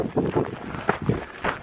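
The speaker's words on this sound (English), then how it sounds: "a little too windy right now." Wind gusts buffet the microphone on a hiking trail in Arizona, producing uneven bursts of low rushing noise that rise and fall several times, loud and close, with no voices.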